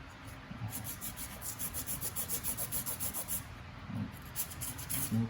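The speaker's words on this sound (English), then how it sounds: "So I'm gonna go around and sand it all." Sandpaper rubs paint off a golf club head in rapid, even back-and-forth strokes, close and faint, pausing briefly before resuming.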